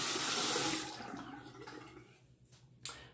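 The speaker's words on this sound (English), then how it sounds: "let me go ahead and rinse this razor" A razor is rinsed under running tap water in a sink, a steady splashing rush that fades to a lighter trickle, ending with a brief clatter near the close.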